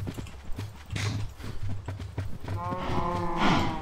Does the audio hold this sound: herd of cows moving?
yes